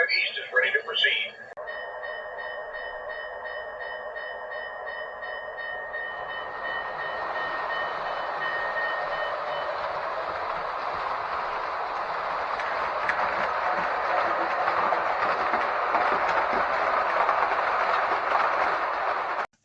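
A Menards O gauge toy train rolls along its track with a continuous whirring rumble that grows steadily after a brief tonal sound at the start, holding at a constant level until it cuts off at the end.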